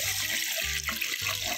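Water poured from a tap into a cooking pot for rice pudding, a steady close rushing stream with a brief break midway, heard alone.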